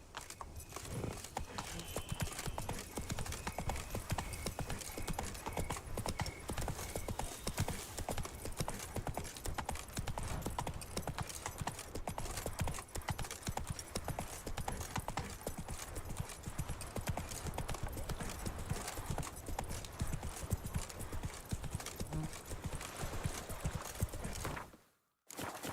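Hooves of Roach, the horse in The Witcher 3: Wild Hunt – Blood and Wine, pound in a fast, steady clip-clop gallop, loud and close throughout, with wind and game ambience underneath and a brief drop-out near the end.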